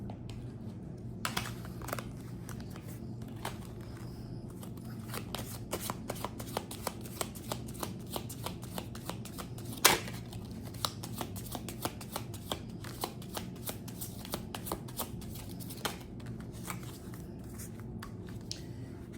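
Oracle cards are shuffled during a love reading: a long run of soft, rapid flicking and riffling, close and fairly quiet, with no talk over it.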